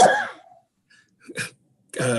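A single sharp sneeze or cough bursts out in a quiet meeting room, followed after a pause by a shorter second burst and a brief breathy sound.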